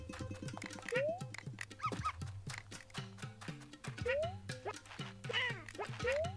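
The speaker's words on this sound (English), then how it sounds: "Come on, Poochie Pup, where are you?" A cartoonish dog barks repeatedly in quick yips from Poochy Pup in the video game Yoshi's Crafted World, mixed with bouncy game music and effects while a player talks over it.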